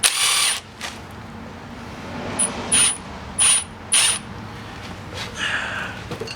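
A ratchet tightens push pins on a 2008–2014 Dodge Grand Caravan during front wheel bearing work, several short loud bursts of rapid ratcheting clicks separated by pauses, close up with no talk.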